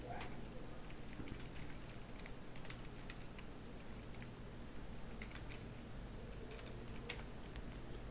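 Someone types a root password on a computer keyboard at a CentOS 7 server setup: soft, scattered key clicks in quick runs and pauses, moderately close, over a steady low hum, with no talking.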